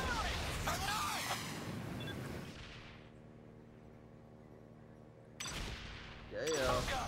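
Dense rolling gunfire and explosions in a motorcycle-themed video game, loud continuous bursts that fade to a quiet hum before erupting again, with voices talking over it.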